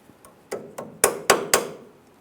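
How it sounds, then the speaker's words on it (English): Hammer peening a cotter pin on a tie rod nut of a 1994-2001 Dodge Ram 1500, six sharp metallic strikes, the first light, then growing heavier and louder, spaced about a quarter second apart. "We'll make sure we peen this over so there's no way this nut can loosen up on us"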